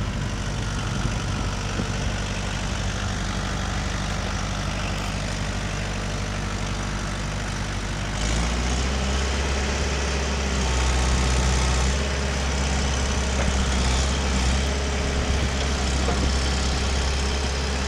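A Kubota L45 compact tractor engine runs steadily throughout, a continuous low diesel rumble that deepens and grows slightly louder about halfway through, close by and with no talking.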